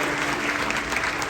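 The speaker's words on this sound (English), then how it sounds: "one more round of applause for our volunteer this evening" Dense, steady applause from a crowd for a volunteer at an evening show, continuous clapping throughout at moderate loudness.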